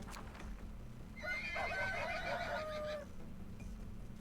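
A whinnying horse neigh from the video game Library of Ruina rises and falls for about two seconds, loud and clear over a low steady background hum.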